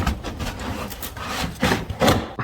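Front bumper cover of a Camaro SS being pulled back from the fender, making close, rough plastic rubbing and scraping with a few louder creaks near the end.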